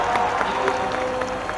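Crowd clapping at the Dohela festival, a dense continuous patter of many hands, moderately loud and steady throughout, with a faint tonal hum beneath it.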